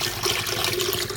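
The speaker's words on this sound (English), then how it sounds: "I'm just going to put some hydrochloric acid in there as it is." Hydrochloric acid poured into a vessel of water for gold refining, a steady continuous liquid rush at close range with no pauses over the short stretch.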